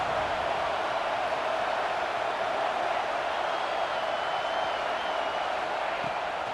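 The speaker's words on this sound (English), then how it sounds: "This crowd going to try to make life miserable for these guys." Steady stadium crowd roar from the College Football 26 video game fills a third-down moment, a dense, continuous wash of noise at constant loudness throughout.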